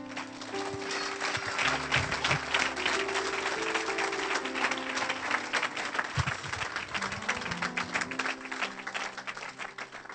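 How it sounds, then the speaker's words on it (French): A church congregation breaks into sustained, dense applause acclaiming the Lord, with steady hand-clapping and some cheering filling a large hall throughout, a low hum of instruments or voices beneath. "Est-ce qu'on peut acclamer le Seigneur?"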